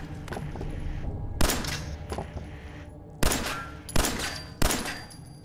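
Gunshots in the video game Fallout 4, several sharp separate bangs spaced about a second apart over low background noise, fairly faint overall.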